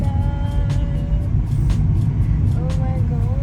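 Car engine rumbling steadily while climbing a winding mountain ghat road in the Konkan region, with a low continuous drone and occasional tire or road clicks, and people talking inside the car.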